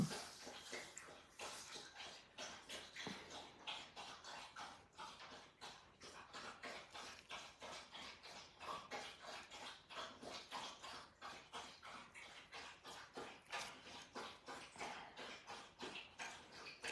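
A thirsty dog laps water, rapid steady wet slurps repeating close and quiet for the whole stretch.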